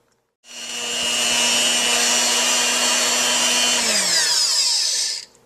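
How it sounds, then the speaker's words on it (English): A stand mixer whips homemade marshmallow mixture with a loud, steady motor whine and whisk hum, then slows toward the end before stopping. "We've been whipping for about 2 minutes, and the mixture is starting to get a little bit wider and a little bit thicker"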